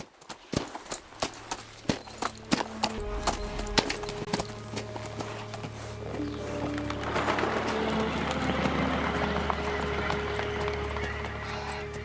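Horse hooves clip-clop at a run in Kingdom Come Deliverance 2, a rapid string of sharp close hoofbeats at first that blurs into a steady galloping rumble with bird chirps and ambient game sound layered over it.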